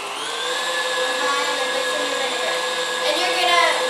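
An electric mixer whips Pavlova meringue mixture with a teaspoon of vinegar added, giving a steady, close motor whine with a slight rise in pitch and strain toward the end.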